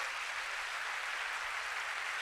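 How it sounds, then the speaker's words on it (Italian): A festival crowd claps continuously in a dense, even wash of applause, steady and moderately distant, with no voices standing out. "fatevi un grande applauso a tutti voi e a tutti i volontari"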